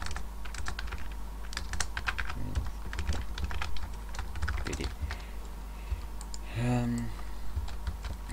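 Fingers type on a sticky computer keyboard in fast, uneven bursts of clicks close to the microphone, with a brief hum of voice partway through.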